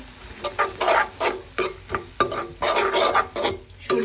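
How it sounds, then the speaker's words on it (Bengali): Fried rice with tomato ketchup stirred in a pan, a spatula scraping and shuffling in rhythmic strokes, loud and close with a faint sizzle underneath. "টমেটো ক্যাচাপ দেওয়া শেষ করলাম আবার একটু মিক্স করে দিচ্ছি"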